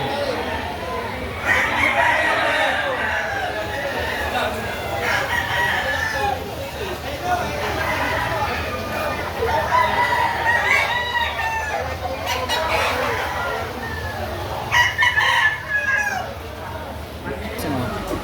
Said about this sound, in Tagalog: Ito po yung mga manok dito na mapagpipilian.